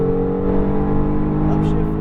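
A Mercedes-AMG GT R accelerates hard on a race track, its engine note droning steady and loud with layered harmonics throughout, close and continuous, while a voice talks over it.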